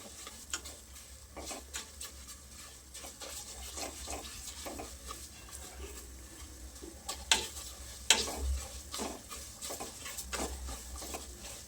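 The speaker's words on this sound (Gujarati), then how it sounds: "સરસ ઘીમાં શેકીશું" Broken wheat (fada) roasting in ghee while being stirred, a low steady sizzle broken by soft scraping strokes and a few sharper clinks of the spoon against the pot, with no talking.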